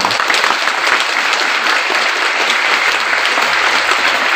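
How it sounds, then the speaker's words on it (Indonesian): An audience at a school gathering claps loudly and steadily for a Quran memorizer, a dense, continuous round of applause with no gaps. "Kita aplaus buat beliau."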